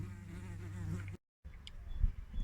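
Megachile bee digging into soil to pass under a pot, giving a close insect buzz with strong low harmonic hum, a brief total dropout, then scratchier rustling and scraping.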